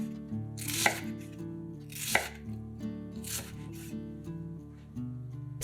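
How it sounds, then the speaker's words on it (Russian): Knife chopping ready-made Korean-style carrots on a board, three or four distinct crisp cuts spaced about a second apart over a steady background of soft music. "Разрезаем ее несколько раз на более мелкие кусочки."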